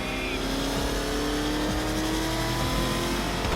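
In Batman: Arkham Knight, the Batmobile drives on with a steady engine drone and rising rev, engine noise constant throughout, with voices faintly present beneath.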